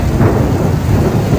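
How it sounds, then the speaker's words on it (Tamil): Heavy rain pours down steadily while deep thunder rolls and booms close by, dense and loud with no voices, during a stormy trip to Jageshwar Dham in India. "பாருங்க எப்படி மழை பெய்யுது."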